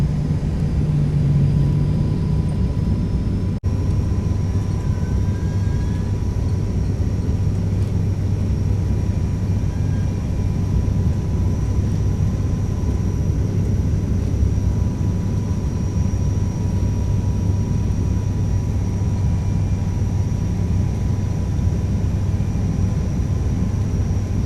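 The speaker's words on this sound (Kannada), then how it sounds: "ಭಾಳ ಸ್ಮೂತ್ ಲ್ಯಾಂಡಿಂಗ್ ರೀ." A steady, even roar of an airplane landing, heard from inside the cabin on a flight to Bangalore, a low droning rumble with a faint whine and a brief click early on.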